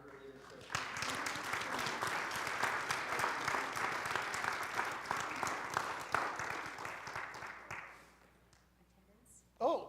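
A small group at a church annual meeting gives a round of applause, steady clapping for about seven seconds before it tapers off, with a voice briefly heard at the end.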